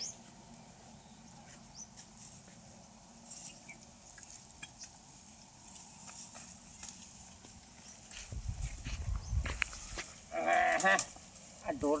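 Cattle low in a rural farmyard, a loud moo rising near the end over a steady outdoor background with scattered clatter and faint noises.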